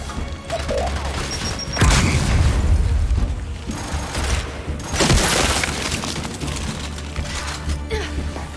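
Grenades go off during a Gears 5 firefight, two heavy booming blasts landing close amid continuous rattling gunfire and battle noise, with shouted combat voices mixed in.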